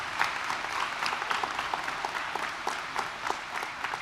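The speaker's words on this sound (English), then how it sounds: "So let's give them another round of applause." Crowd at a high school graduation ceremony applauds the graduates, continuous clapping with some distinct nearby claps standing out, moderately loud and steady.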